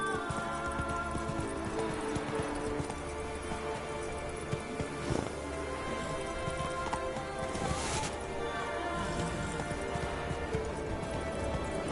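Roach the horse gallops in The Witcher 3: Wild Hunt, with rapid continuous hoofbeats running steadily through the whole stretch, close and full, layered over a dense game soundscape with occasional brief accents.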